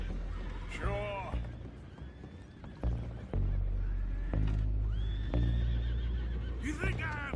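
Horses whinny and neigh repeatedly in Red Dead Redemption 2, mixed with clattering and background game noise under a steady low rumble, with a few loud thumps.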